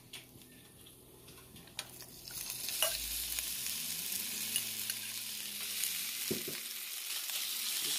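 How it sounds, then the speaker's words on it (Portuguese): Sliced calabresa sausage sizzles in a pan for a stuffed northeastern cuscuz, a soft, steady frying hiss with occasional stirring clicks and scrapes, fairly quiet and with no talking. "Agora vamos colocar a calabresa."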